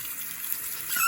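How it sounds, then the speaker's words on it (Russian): Water trickles from a tap into a foam soap dispenser, a faint, short hissing pour that grows slightly louder toward the end. "Так, наливаю еще, но не до верха."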